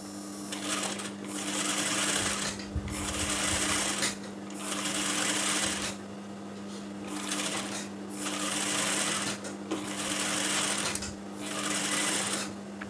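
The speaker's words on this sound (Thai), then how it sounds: "เย็บตามเส้นที่เรากลิ้งที่เราปักไว้เลยนะคะ" A sewing machine stitches a women's shirt collar in close, rhythmic runs of rapid needle chatter, about six bursts separated by brief pauses.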